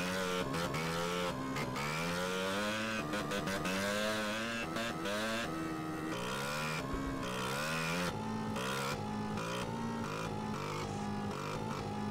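Motorcycle engine revving and shifting while riding in the video game GTA, rising and falling pitch sweeps repeating through the whole stretch, loud and continuous.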